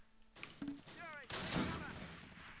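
Gunfire in the WWII strategy game Close Combat Last Stand Arnhem, set at Wolfheze in September 1944: a couple of sharp shots and a heavier booming report over battlefield noise, with a voice speaking briefly.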